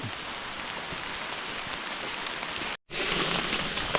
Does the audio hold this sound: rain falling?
yes